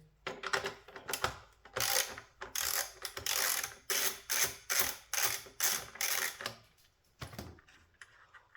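A 13 mm socket ratchet loosening a collar on a 2025 BMW S1000R motorcycle, a close run of about a dozen quick clicking strokes in a steady rhythm, then a pause.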